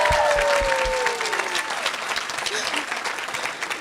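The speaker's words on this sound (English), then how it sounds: "let's all give a round of applause for the new Mr. and Mrs. Molnar" Wedding guests at a country club reception applaud the newlyweds, a close, lively burst of clapping with a brief whoop and a voice over it, gradually thinning out.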